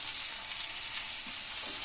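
Masala frying in a pan with turmeric and salt for a Coimbatore-style chicken gravy: a steady, close hiss of sizzling oil with faint stirring, no voices.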